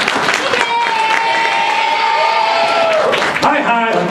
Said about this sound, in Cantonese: 請以最熱烈嘅掌聲，我哋嘅女主角 Niki 周麗淇小姐